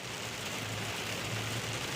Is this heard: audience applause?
no